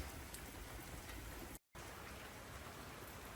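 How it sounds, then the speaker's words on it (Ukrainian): Heavy rain pours down in a dense, steady roar with a momentary cutout partway through. "Дуже рідко, коли так ліє дощ."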